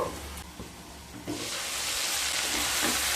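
Potatoes and cauliflower frying with spices on low heat, a soft steady sizzle that swells partway through into a fuller hiss, with a few faint stirring scrapes, close and unaccompanied by speech.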